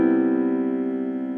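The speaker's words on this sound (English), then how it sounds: "harmony, the piano part that's being played" A piano sounds a single sustained seventh chord, the held notes ringing steadily and slowly decaying over a brief moment, close and alone with no voices.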